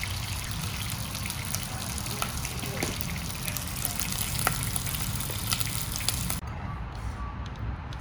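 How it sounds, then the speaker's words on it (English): Flour-dusted tuna pieces frying in a hot pan, a dense steady sizzle and crackle that runs throughout and drops off sharply near the end. "So fry these pieces up about 3 minutes on each side."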